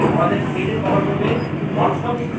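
A passenger train pulling out of Bolpur Shantiniketan station, a steady low rumble of carriages with rhythmic rolling pulses, heard from inside the train under a person talking.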